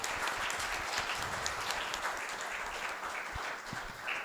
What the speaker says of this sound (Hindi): ताली बजाकर प्रभु को धन्यवाद दें।